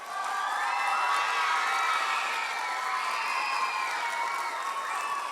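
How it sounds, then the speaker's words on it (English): An audience at a middle school law swearing-in ceremony applauds and cheers in a steady, loud wash of clapping, with shouts and whoops from children rising above it. There is no talking. "How about a round of applause for her?"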